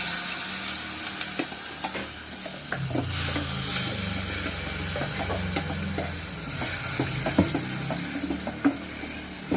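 Ground masala hits a pan of frying mustard seeds and curry leaves, sizzling steadily while a spoon stirs and scrapes with light clinks, close by and without talk.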